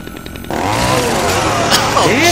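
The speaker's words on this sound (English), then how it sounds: "I'll take that chainsaw." A chainsaw in the Dead Rising 2 video game roars to life and revs steadily, loud and close, with pitch sweeps, while voices carry on faintly beneath the motor.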